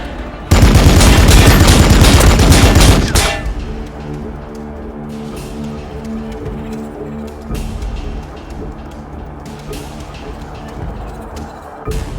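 Gunfire in the Warhammer 40k: Battlesector video game, a loud dense burst of rapid shots for a few seconds, then quieter scattered battle noise with distant shots over a steady droning background.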